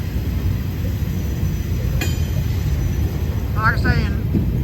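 A CSX intermodal freight train passes a crossing on Albany Avenue in Waycross, Georgia, with a steady low rumble throughout, brief squeals and clanks from the wheels, and a voice talking over it.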